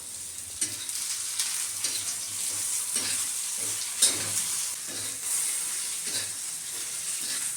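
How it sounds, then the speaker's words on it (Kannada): Green chillies roast in a pan for chutney, giving a steady sizzle and hiss with repeated scraping stir strokes throughout, close and moderately loud, with no voices. "ಎಲ್ಲ ಕಲರ್ ಚೇಂಜ್ ಆಗಿದ್ದು ಅಷ್ಟು ಕ್ಲೀನಾಗಿ ಹುರ್ಕೋತೇನೆ"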